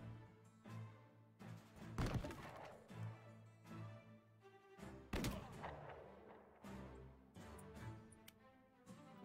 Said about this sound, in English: he's gonna double shot this guy